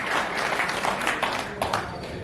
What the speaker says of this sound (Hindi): एक बार जोरदार तालियां होनी चाहिए उपस्थिति के लिए